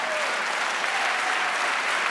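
A church congregation applauds during a Spanish-language sermon, a steady, dense wash of clapping sustained at even loudness throughout.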